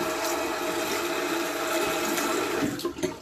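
Cold water runs from a tap for a rinse, a steady close rushing splash that continues throughout and tapers with a few gurgles at the end.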